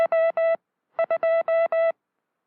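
Morse code sent on a properly adjusted telegraph key sounds as steady, evenly spaced tone bursts, a run of dots and dashes, then a short pause and another clean group, loud and alone.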